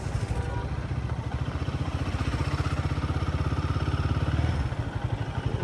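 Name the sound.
motorcycle engine running in third gear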